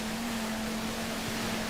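A motorboat engine in the video game GTA 5 Online drones steadily at a constant pitch with a rushing wind-and-water wash, heard alone for a brief stretch.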